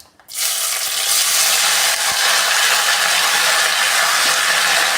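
Chopped ridge gourd dropped into a pan of hot oil and cumin seeds, setting off a sudden loud, dense sizzle that stays strong and steady throughout.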